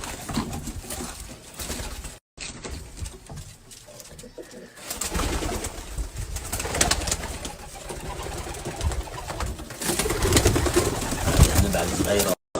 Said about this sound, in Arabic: هذا طيور يعني